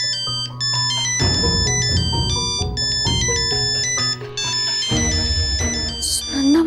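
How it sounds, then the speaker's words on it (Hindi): Mobile phone ringtone for an incoming call at home, a loud melodic electronic tune playing steadily in repeating phrases for several seconds with no talking over it. "सुनंदा मासी का कॉल"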